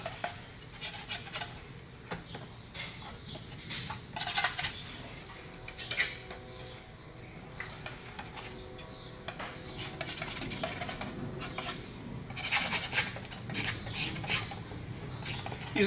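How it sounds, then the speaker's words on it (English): Palette knife and brush working oil paint on canvas for a marshland painting, faint intermittent scraping and dabbing strokes in an irregular rhythm, close and quiet. "So I'm gonna go back and forth with the brush and the palette knife."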